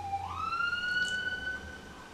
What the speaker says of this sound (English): there is an ambulance right outside my apartment.